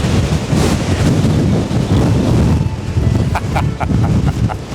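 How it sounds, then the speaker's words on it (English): Strong coastal wind buffets the microphone at the cliff edge of Godrevy Point in Cornwall, a loud, continuous roaring rumble with gusting swells and faint flutters, no voices. "the wind is blowing a hoolie, trying to shield the microphone"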